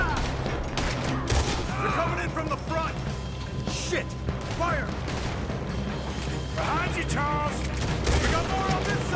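Gunshots in the Red Dead Redemption video game, repeated loud cracks scattered through a dense, busy mix of game noise, with someone talking over the action.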